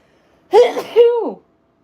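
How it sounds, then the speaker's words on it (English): A single sharp sneeze, close and loud, with a quick intake of breath before the burst, then silence. "Uh-oh, now I gotta sneeze."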